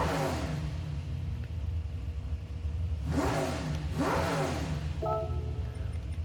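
A 1965 Shelby G.T.350 V8 idling in Gran Turismo 7, with a steady low rumble broken by two sharp revs that swell and fall back, followed by a brief tonal chime near the end.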